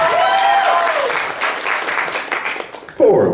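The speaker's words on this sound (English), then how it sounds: "Audrey Lewis, round of applause." Audience applause rises for a comedian introduced at a joke-off comedy event, loud clapping carrying throughout while a voice speaks over it near the start and end.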